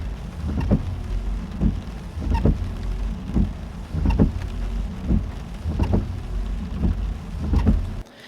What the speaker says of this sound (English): we have some window wipers going on. Obviously, it's raining.